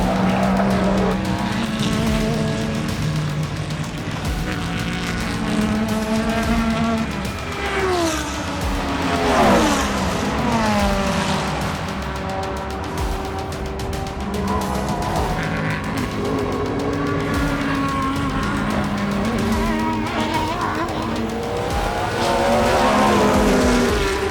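Race cars roar around the track at Petit Le Mans, loud engines rising and falling in pitch as cars pass one after another, with continuous overlapping engine noise throughout.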